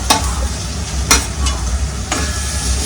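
Tomatoes tossed into a pan of softened frying onions for baingan bharta, with a steady close sizzle and a few sharp scraping stirs of a spoon against the pan.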